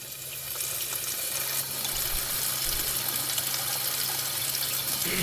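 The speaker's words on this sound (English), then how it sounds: "This is called a water bell and happens when a stream of water hits a curved surface and spreads out into a very thin sheet." A tap stream strikes a curved surface and spreads into a thin water bell, making a steady, close splashing hiss that runs unbroken and alone from start to finish.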